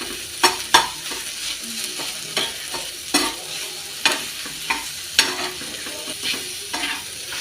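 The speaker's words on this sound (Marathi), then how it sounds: "चांगलं परतून घेऊ आपण." An eggplant bharit mixture is stirred and sautéed in an iron pan, a steady sizzle broken by repeated sharp scraping strokes of the spatula at a regular rhythm, close and clear with no talk.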